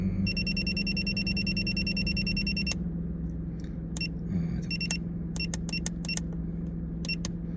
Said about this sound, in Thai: อันนี้ก็เตือนรอบเครื่อง